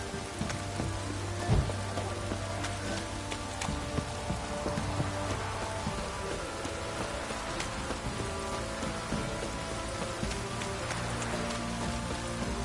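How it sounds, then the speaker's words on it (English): A dense, steady rain pours down without letup and patters on nearby surfaces in the video game The Witcher 3. "This downpour's a bastard, it is."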